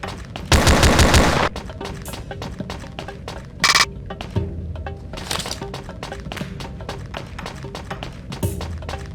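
Game gunfire from the 2009 FPS Creator shooter Mob Ties Tokyo: one long, loud, dense burst of automatic fire opens the passage, followed by a short sharp volley and scattered lighter shots over a busy backdrop.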